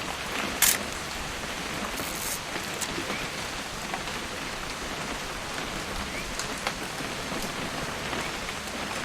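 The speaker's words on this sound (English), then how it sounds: "It's gonna rain the whole weekend," Steady rain in the video game What Remains of Edith Finch, a soft, even hiss of falling drops with a few brief louder spatters, faint and continuous throughout without talk.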